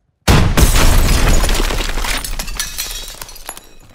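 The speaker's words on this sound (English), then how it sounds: "Daniels, we need that launcher again. Watch the backblast." A rocket launcher fires in the Call of Duty video game and its round explodes: a sudden, loud blast with a shattering, debris-filled roar that slowly fades over several seconds, with no talking.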